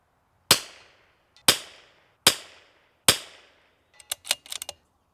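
Four sharp rimfire rifle shots from RWS R50 ammunition ring out at a steady pace, each with a quick decaying tail. A cluster of fainter, rapid clicks and taps follows.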